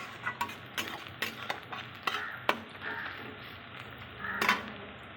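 Finely chopped onions being stirred while frying in a pan, with a series of scraping, clinking strokes of the spoon against the pan over a soft sizzle, fairly close and quiet.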